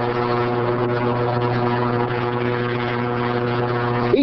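A simple light propeller plane flies over Boca Raton, Florida, its engine giving a loud, steady droning hum with a strong buzzing tone that holds throughout.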